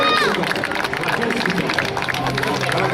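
Steady, loud crowd applause for students at an award ceremony for the Olimpiade Cuncordia in Nuoro, continuous clapping mixed with background crowd babble throughout.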